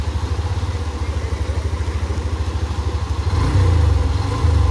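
A Hero Xtreme 125 motorcycle engine runs at a fast, steady idle-like throb during a water-crossing off-road ride near Dehradun, then rises in pitch and loudness as it is revved near the end; no one speaks.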